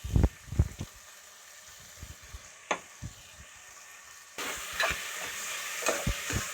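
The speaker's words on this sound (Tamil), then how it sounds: "இப்போ இது கூட நான் அந்த வெங்காயத்தை ஆட் பண்ணிக்கிறேன்." Onion added to duck gravy and stirred in a hot pan, with close scraping stir strokes and a low sizzle of frying that grows steadier and brighter in the second half.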